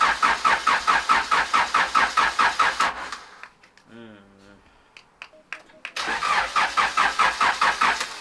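Turbo Honda Civic running with a fast, loud chugging beat, then cutting out. A starter cranks briefly with whirs and ticks before the engine catches and settles back into the same rapid, rough pulse, with people talking around it.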